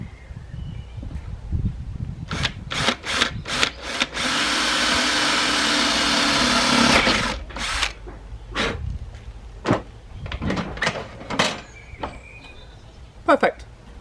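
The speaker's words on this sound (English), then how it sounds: "And now we're ready for drilling." A power drill bores a hole through a clamped kayak paddle shaft at the spigot joint, one steady whirring burst of about three seconds, framed by clicks, handling knocks and brief voices before and after.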